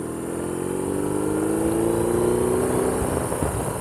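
A BMW R18 Classic motorcycle's big boxer engine revs steadily, its low droning tone climbing gradually in pitch over a few seconds, loud and close with no talking.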